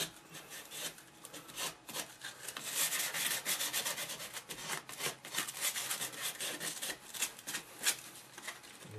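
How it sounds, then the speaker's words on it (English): Sandpaper rubbing over built-up filler on a chipped, molded MDF baseboard, worked along the grain in steady back-and-forth scratchy strokes, close and continuous with no talking. "But we want to keep our good habits and sand in the direction"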